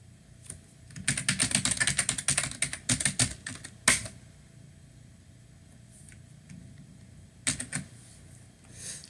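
Someone types a username and password on a computer keyboard, a fast flurry of close, light key clicks followed by a sharp keystroke, then quiet with a few scattered taps near the end.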